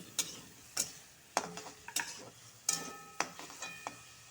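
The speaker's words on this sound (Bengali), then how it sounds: "পেঁয়াজ কুচিটা দিয়ে কাঁচা লঙ্কা দিয়ে আদা ভাজা করে নিব" Chopped onion, green chilli and ginger fry in hot oil, heard as sharp, close scraping stir strokes and clinks at irregular intervals over a soft sizzle.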